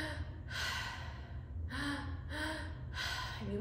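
Deep breathing during a guided breathwork practice, with several strong, airy breath pulses in a steady cycle, close and prominent over a low background hum, with no talk.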